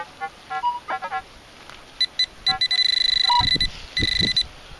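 An X-pointer metal detecting pinpointer beeps over a hole at an old Georgian well site, giving short, fast pulsed tones in bursts, then a sustained buzzing run of rapid beeps, close and loud with no talk.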